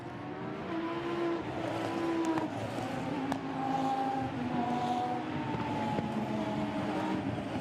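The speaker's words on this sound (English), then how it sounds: "a great sight, a great sound that a grid full of Super Trofeo Lamborghinis make" A full grid of Lamborghini Super Trofeo race cars accelerating away from a rolling start at Imola, engines roaring together in a sustained, layered drone with rising and shifting revving tones, loud and continuous throughout.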